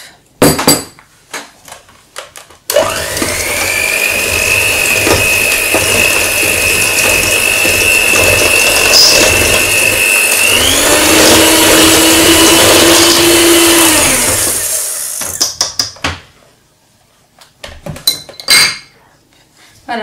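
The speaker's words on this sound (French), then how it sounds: "mélanger avec le mixeur pendant encore quelques minutes." An electric mixer beats cupcake batter in a bowl, switching on with a loud, steady whine that drops in pitch midway, runs about twelve seconds, then cuts off, followed by light clinks and scraping.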